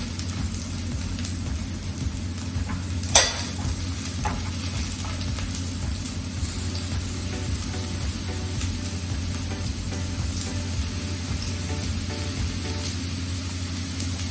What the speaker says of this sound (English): Now see, all the veggies have been grilled